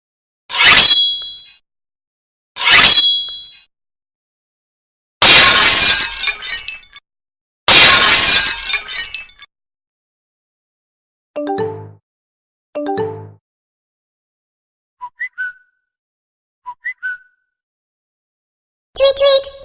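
A series of short phone notification tones, each a separate burst with silence between: bright clangy, glassy chimes and dings first, then softer, higher tonal beeps toward the end, loud and clean with no talk.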